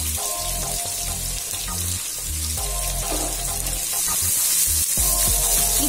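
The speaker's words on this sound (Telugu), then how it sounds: "ఇది కూడా 2 నిమిషాలు కలర్ చేంజ్ అయ్యే వరకు వేయించుకోండి" Thinly sliced onions frying in a pan of oil for mutton biryani, a steady hissing sizzle with a few clinks and scrapes of the pan over it, no talking.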